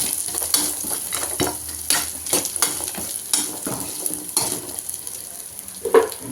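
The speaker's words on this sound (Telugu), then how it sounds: "ఏగిన తర్వాత మనం ముందుగా తురుముకున్న కొబ్బరి లైట్గా ఇది కూడా వేగించేద్దాం" Grated coconut fries in a pan with a steady loud sizzle, punctuated by repeated scraping strokes of a spatula stirring it, close and without speech.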